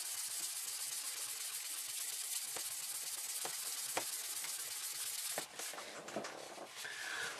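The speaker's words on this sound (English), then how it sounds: "We'll give that another polish up there." A piece painted with Mr Hobby Metal Colour is polished by hand, giving close, continuous hissy rubbing strokes with a few sharper scrapes and a brief pause near the end.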